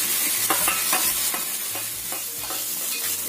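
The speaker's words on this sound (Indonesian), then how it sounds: "Ini kita tumis sampai bombay dan bawang putihnya ini matang ya." Onion, ginger and garlic sauté in a pan with a steady close sizzle, while a utensil stirs and scrapes in repeated strokes throughout.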